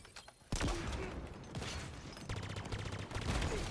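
Rapid bursts of charge-shot fire from a Halo Infinite firefight crackle loudly and stay dense, with a quiet lead-in before the shooting starts and repeated sharp volleys after it.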